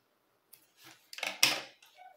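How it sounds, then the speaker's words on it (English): Scissors snip through yarn at close range, a few quiet, short crisp cuts and rustles in near silence. "Now we cut our yarn here"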